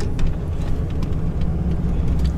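A dump truck's diesel engine drones low and steady with the exhaust mountain brake engaged, a close, muffled rumble that holds without gaining revs.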